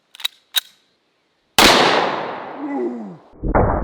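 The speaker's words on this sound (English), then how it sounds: "The round we're gonna be using is a 50 AE 350 grain full metal jacket." A .50 AE hand cannon firing a 350-grain full metal jacket round lets out one loud, close blast with a long roaring decay, after two short faint ticks.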